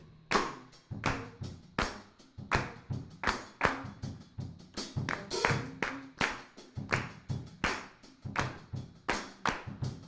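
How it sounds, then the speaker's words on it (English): A group of people clap a rhythm together in a music classroom, sharp, loud, evenly spaced claps repeating in a steady pattern for the whole stretch with no talking. "Let's all clap the rhythm."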